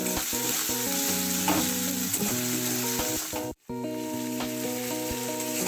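Garlic with a little salt fries in a pan, giving a continuous close crackling sizzle with occasional stirring scrapes. Musical tones sound underneath, and the sound drops out briefly midway.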